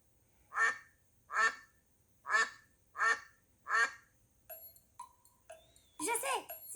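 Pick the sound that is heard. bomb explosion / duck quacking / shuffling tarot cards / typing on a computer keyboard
duck quacking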